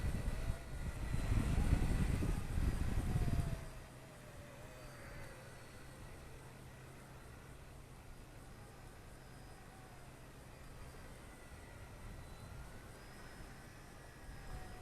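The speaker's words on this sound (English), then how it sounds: "Isn't that amazing for a little micro helicopter like this?" A First Step RC Heli 101 micro helicopter with a 6-axis gyro and altitude hold flies outdoors in some wind, giving a faint, steady whirring hum under a louder rush of wind noise during the first few seconds.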